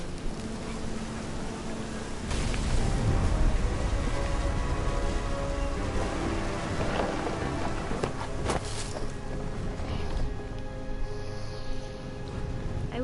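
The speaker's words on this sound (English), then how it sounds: "The thunder sounded much too close and full of angry power." Rainstorm in the game What Remains of Edith Finch, a steady wash of falling rain that swells and holds at a moderate level throughout, with faint music tones beneath and a few sharper impacts, though no distinct thunder crack stands out.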